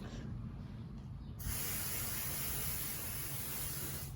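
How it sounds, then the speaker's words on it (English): Basting adhesive spray is applied onto fabric from an aerosol can, a single sustained close hiss that starts abruptly after a quiet moment and continues evenly to the end. "And you wanna spray this really, really good"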